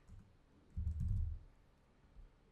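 Quiet keystrokes on a computer keyboard while typing PowerShell commands, a short faint burst of soft clicks with a single tap afterward.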